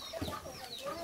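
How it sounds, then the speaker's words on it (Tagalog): A chicken clucks close by in short, choppy bursts, heard alone without talking. "Yung manok."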